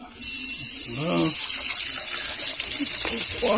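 Water gushes hard and steady from an opened pipe during HVAC valve replacement, a loud continuous hiss starting abruptly, with a brief voice over it.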